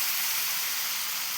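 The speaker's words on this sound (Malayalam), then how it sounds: "തിളച്ച വെള്ളമാണ് ഒഴിച്ച് കൊടുക്കുന്നത്." Boiling water poured into a hot frying pan for a Kerala pappadam curry with tomato, a continuous loud hissing rush of steam and sizzle throughout, no voices.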